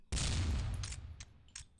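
One loud, close shotgun shot at clay skeet targets in a video game follows a brief silence, then rolls off into a fading tail broken by a few small, distant pops.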